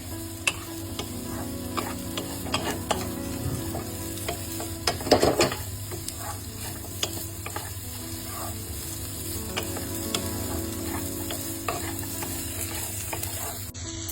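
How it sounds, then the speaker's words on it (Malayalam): Capsicum sautéing in a pan for a chicken stir fry, a continuous low sizzle with a background hum, under repeated clicks and scrapes of a spatula and a short burst of clattering stirring near the middle. "അതൊന്ന് ക്യാപ്സിക്കം ഇട്ടു, അതൊന്ന് സോട്ട് ചെയ്യാം"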